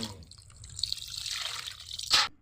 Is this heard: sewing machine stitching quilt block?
no